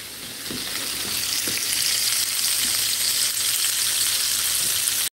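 Battered onion rings frying in hot oil on a stove for Southern cooking, a dense continuous bubbling sizzle heard up close, steady throughout with no talking, ending abruptly.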